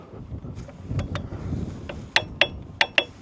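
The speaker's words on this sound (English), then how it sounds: "That was the clickety-clack of the torque wrench hitting 60 foot-pounds." Husky torque wrench clicking as it hits 60 foot-pounds while tightening a bolt on a Walker MT23GHS mower: four sharp, close metallic clicks in two quick pairs after a few softer ratcheting sounds.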